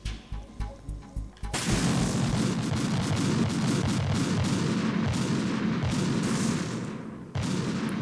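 Gunfire in Metal Gear Solid 2: a few sharp shots give way to a loud, sustained roar of heavy fire and rumbling blasts that holds steady for several seconds before a brief drop and renewed burst.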